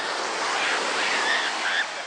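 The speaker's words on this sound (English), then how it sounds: "Waves coming." Ocean surf at Santa Cruz beach, a steady broadband wash of breaking waves close by with some wind noise, loud and continuous throughout.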